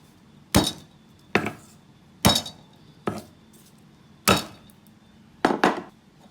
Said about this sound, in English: You can crush these any way you like. My favourite way, meat hammer.